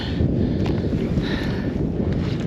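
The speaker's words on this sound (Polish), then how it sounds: "O, troszkę wieje" Wind gusts across a snowy hilltop, Knowl Hill above Manchester, buffeting the microphone in a loud, continuous low roar that swells and eases slightly throughout.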